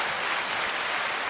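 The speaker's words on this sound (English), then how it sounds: "Clap it up for him." A short burst of steady, dense clapping for a guest on an interview podcast, close and even in level.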